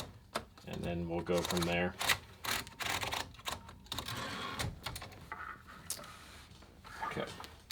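Keys of a 1970s blue Remington Streamliner portable typewriter striking in irregular bursts of sharp clacks, with a carriage bell ring, close up, and someone talking in between.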